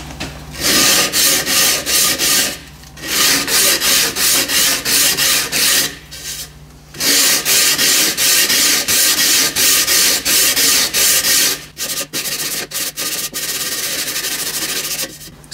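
Sanding the edges of a carbon fibre collet rack made for a Bridgeport milling machine, with loud close rasping strokes in long continuous runs broken by brief pauses.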